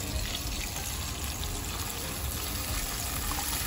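Water pours steadily into a cooking pot of Jamaican oxtails, a continuous close gushing and splashing that holds even throughout with no talking.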